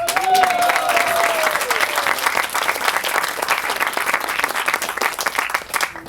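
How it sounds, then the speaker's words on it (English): Loud, sustained applause from a gathered audience at a devotional initiation ceremony for a newly initiated disciple, with a short rising tone at the start and the clapping continuing evenly until the end. "Give her a big round of applause."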